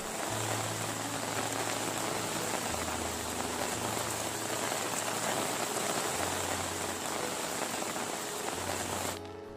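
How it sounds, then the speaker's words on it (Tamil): Heavy rain falls on Theni and nearby areas of Tamil Nadu, a loud, dense and steady downpour that hisses without letup and is heard alone with no voices. "தேனி மற்றும் அதன் சுற்றுவட்டார பகுதிகளில் இடிமின்னலுடன் கூடிய கனமழை பெய்தது"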